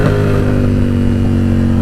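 A Yamaha R7 with its CP2 engine revving close by, a loud, steady, harmonic-rich drone that holds for the whole stretch with no break.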